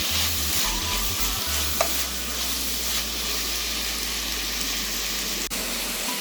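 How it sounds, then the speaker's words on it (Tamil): Chopped tomatoes sauté in a pan with a steady, dense sizzle and light stirring throughout, under a low constant hum. A sharp tap stands out near the end. "இந்த மாதிரி பொடியாக 2 தக்காளி கட் பண்ணி சேர்த்துக்கிறோம்."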